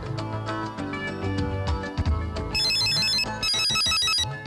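A mobile phone ringtone for an incoming call plays as a repeating electronic melody, loud and close, with rhythmic bright chiming bursts after a short musical lead-in, and no voices.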